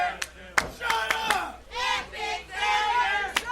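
A wrestling crowd jeers at Tommy Cash with loud, swelling shouts and yells rising in waves, mixed with scattered claps and sharp smacks at close range.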